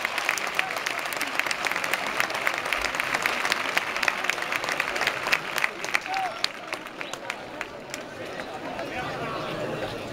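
Spectators at an outdoor competition in Fitero, Navarra, applaud a competitor, a continuous crackling wash of many hands with sharp individual claps, while a commentator's voice runs underneath.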